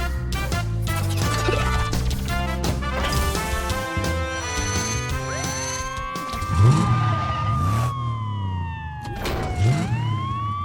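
A cartoon fire truck's loud wailing siren sweeps up and down, mixed with a busy electronic tune and rising tones, continuous throughout.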